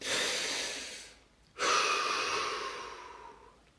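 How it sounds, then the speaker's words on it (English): A deep breath during a tension-release relaxation exercise: a long, close airy inhale, a brief pause, then a longer audible exhale that fades out slowly, with no speech. "Take that breath."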